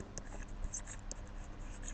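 Pen scratching on paper while critical values are written by hand, soft, close and continuous with a few light taps.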